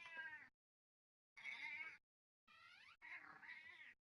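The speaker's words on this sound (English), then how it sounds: "And the cat is meowing like he wants in" A cat in the 7 Days to Die game meows three times in quick succession, clear, drawn-out and plaintive cries with brief silences between them, heard alone without talk.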